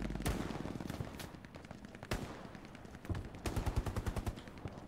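Machine gun fire in the World War II shooter Hell Let Loose at Sainte-Mère-Église, sharp cracks followed by a rapid rattling burst toward the end over a busy, noisy battlefield backdrop.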